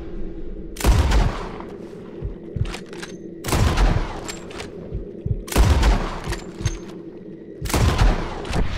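Gunshots aimed at flying birds in Red Dead Redemption 2, four loud reports spaced about two to three seconds apart, each followed by a booming echo and rattling tail, with no talking.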